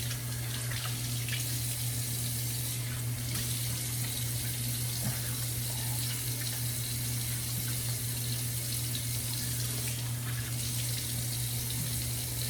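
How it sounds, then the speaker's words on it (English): Water runs steadily from a tap while rinsing off after a shave, a continuous, moderately loud splashing flow with a low hum underneath and no talking. "let me go ahead and rinse off"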